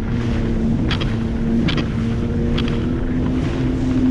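A steady, loud engine drone from a Sea-Doo personal watercraft skimming across Lake Ontario, with wind buffeting the microphone and a few brief splashy bursts.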